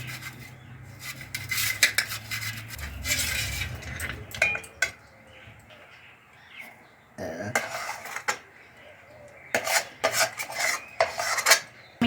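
A metal spatula spreads and smooths raw mango pulp across a metal plate while making mango leather. Repeated scraping and rasping strokes come in close bursts, separated by short pauses and light clinks, with no talking.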